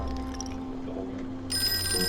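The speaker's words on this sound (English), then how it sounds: "I don't want to answer the phone." A telephone rings inside the Call of Cthulhu video game, a steady electronic bell tone that swells louder partway through over low background hum.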